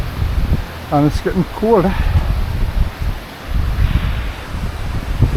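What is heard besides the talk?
wind blowing on a Lake District fell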